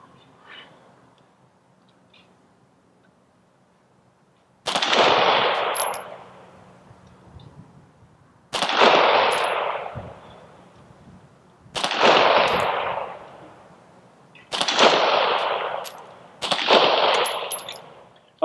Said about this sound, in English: What I want to shoot is five more and confirm to make sure that it's not any trigger control issue